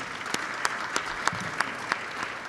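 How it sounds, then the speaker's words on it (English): Audience at a town hall panel session applauds, a sustained crowd of clapping hands at moderate distance with a few sharper individual claps standing out in a rough rhythm. "Let's give them a round of applause again."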